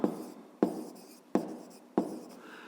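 Handwriting on paper during a 5th-grade maths exercise, heard as four distinct scratchy strokes spaced roughly evenly, each starting sharply and fading, close and fairly quiet with no talking.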